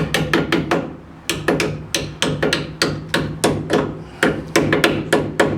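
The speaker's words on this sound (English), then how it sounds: "take a hammer and tappy tap tap them" Sharp hammer taps on Ford F-150 rear brake pads seating them on the bracket, in quick clusters of several blows, close and loud, with short pauses between groups.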